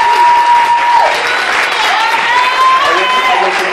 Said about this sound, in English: Somebody give God a hand.